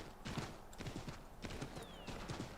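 Horse hooves pound in a steady galloping clip-clop in the Assassin's Creed III video game, close and continuous over busy ambient game noise.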